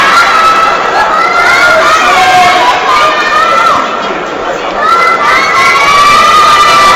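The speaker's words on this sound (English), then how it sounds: "Oh, the crowd still encouraging both sides" Loud, dense crowd at a tense fifth-set volleyball match, with high shrill shouts and cheering rising and falling continuously, many voices yelling encouragement close and overlapping for the whole stretch.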